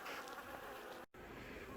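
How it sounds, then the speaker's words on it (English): Docile honey bees buzz around an opened hive box in November, a dense, steady hum of many wings heard close, broken by a brief dropout. "I gotta say though that the bees are extremely docile."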